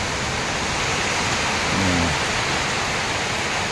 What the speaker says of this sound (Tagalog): Lakas ng ulan mga kaibigan. Biglaang lumakas ang ulan.